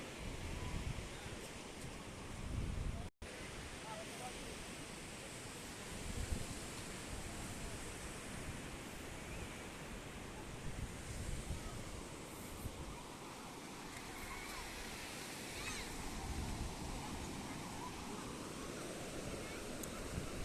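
Sea waves wash onto the beach at Hamsaladeevi at low tide, a faint, steady broadband roar with wind over the microphone and no distinct breaks.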